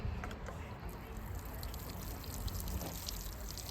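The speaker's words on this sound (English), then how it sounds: "Right, just need to water it." Water pours onto newly transplanted pepper plants in a garden container, a faint, continuous splashing trickle with low rumbling underneath, steady throughout and without clear speech.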